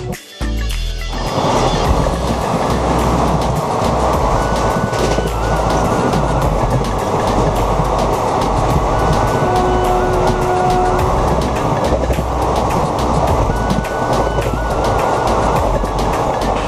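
The 18011 Chakradharpur Express runs toward Kharagpur Junction with a loud, close, continuous rolling rumble, overlaid by sustained high metallic squeal tones that waver in and out.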